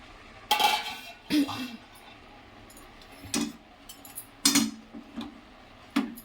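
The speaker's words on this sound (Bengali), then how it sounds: "তো এবার আমি ঢাকাটা খুলে দেখবো এটা কতটা হলো।" A lid comes off a cooking pot with a few sharp metallic clanks and scrapes, spaced out and close, over a quiet kitchen background.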